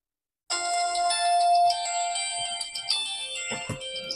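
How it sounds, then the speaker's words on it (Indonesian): A phone ringtone for an incoming call cuts in abruptly and sustains a bright, steady electronic melody, fairly loud and close, with no talking over it. "Sorry, ada telepon masuk"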